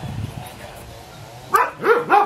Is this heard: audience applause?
no